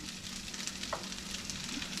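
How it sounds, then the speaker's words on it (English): Continuous crackling sizzle of potatoes frying in a hot oiled pan, steady and close, with a brief clink partway through. "Yeah, nice sizzle."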